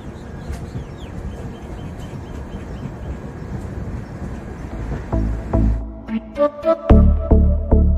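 A train on the Kolkata to Darjeeling route gives a steady low rumble for about five seconds, then gives way to louder, uneven thumps and clanks near the end, with no talking.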